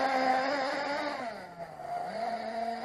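Nitro engine RC car driven gently during a cold weather break-in, its head partly wrapped in aluminum foil, giving a steady high buzzing whine that dips briefly in pitch then climbs back, close and continuous.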